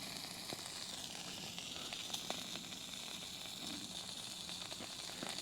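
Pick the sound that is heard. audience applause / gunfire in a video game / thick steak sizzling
thick steak sizzling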